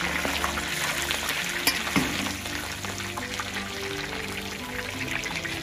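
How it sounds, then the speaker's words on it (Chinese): Fish fry in a pan at a Chinese fish-soup noodle shop, a steady loud sizzle and crackle with occasional pops and clinks, close up with no talk. "人家煎鱼"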